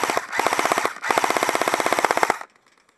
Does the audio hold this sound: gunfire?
yes